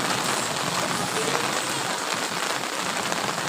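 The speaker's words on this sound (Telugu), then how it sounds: "వర్షం పెద్దది పడుతుంది" Heavy rain pours down in a dense, steady hiss of drops hitting surfaces, loud and continuous throughout.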